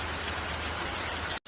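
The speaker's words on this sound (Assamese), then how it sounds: "আৰু আজি ইমানেই বৰষুণ দিছে, ৰাতিপুৱাৰ পৰা একেবাৰে এৰাই নাই।" Heavy morning rain pours in a dense, steady hiss of drops striking the ground, close and loud, cutting off abruptly at the very end.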